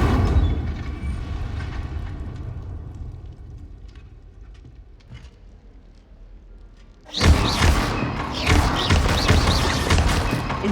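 A fire spell cast in Hogwarts Legacy erupts as a sudden loud whooshing burst partway through, following quieter game ambience, then a dense crackling roar that carries on to the end.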